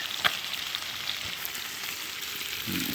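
Liver and minced onion fry in a pan over a bushcraft cooking setup, giving a steady close sizzle throughout with a brief clatter near the start and a low scrape at the end.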